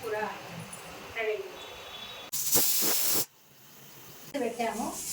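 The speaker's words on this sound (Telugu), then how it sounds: "ఫ్రెండ్స్, కుక్కర్ ఆవిరి పోయింది" A pressure cooker of mutton kheema vents steam in a loud, sharp hiss lasting about a second, set between quieter kitchen sounds and a person talking.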